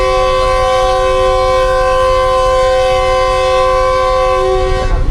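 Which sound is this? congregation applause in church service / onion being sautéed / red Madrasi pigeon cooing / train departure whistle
train departure whistle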